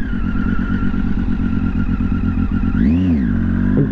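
A motorcycle is ridden with a steady, loud, close engine drone, and its pitch rises and falls in a brief swell near the end as the rider works the throttle.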